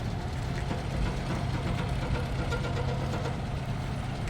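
A driving school car's engine idles steadily with a low, constant rumble and faint background noise, no talking.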